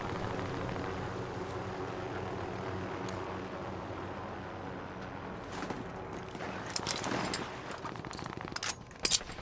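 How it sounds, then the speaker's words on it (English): Helicopters in a video game drone overhead as a steady rotor and engine rumble, continuous throughout, with sharper game impacts and bursts toward the end. "Helicopters everywhere."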